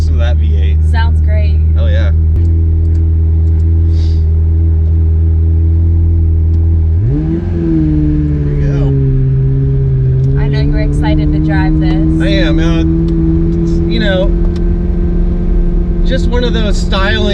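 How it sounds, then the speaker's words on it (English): A 2003 Ferrari 360 Modena V8 drives on a street, its engine droning steadily, then climbing in pitch and rising in volume midway as it accelerates, with excited voices talking over it. "Listen to that V8."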